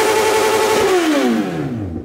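A 2020 Honda CB1000 motorcycle engine revs up, then drops in pitch as it winds down, heard close and loud with no talking.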